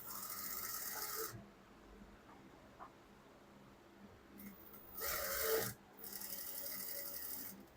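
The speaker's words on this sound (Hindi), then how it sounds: "ये देखें उसी एंगल से हम ये सिलाइयाँ लगा रहे हैं" An electric sewing machine stitches the side seams of fabric in two bursts, a longer run at the start and another later, with quiet pauses between.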